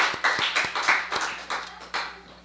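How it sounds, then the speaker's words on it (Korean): A church congregation gives a short burst of welcoming applause, with loose, separate handclaps in an irregular rhythm, fairly close and unaccompanied by talk. "환영의 박수 하겠습니다."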